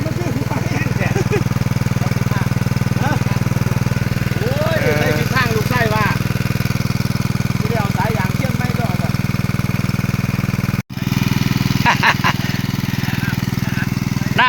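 Engine-driven water pump running in a rice field, drawing water into the paddy: a steady, loud mid-pitched engine drone throughout, close by, with people talking over it and a brief dropout near the end.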